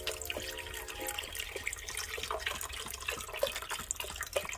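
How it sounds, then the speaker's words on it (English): Chicken broth, four cups from a 32-ounce carton, poured into a soup pot for a copycat Zuppa Toscana, a continuous close splashing and gurgling pour with small drips. "what we're going to do now is pour our chicken broth in"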